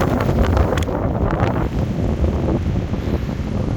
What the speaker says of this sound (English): the wind's not died down any here